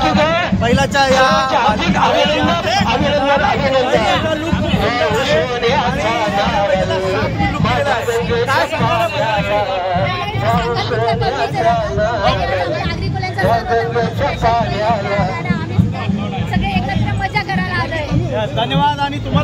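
Loud, continuous crowd babble surrounds a bull at a Narali Purnima festival rally, with many overlapping voices and chatter held at a steady level throughout.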